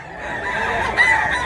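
A rooster crows once at a market where roosters are being sold, a short strained call over faint background voices.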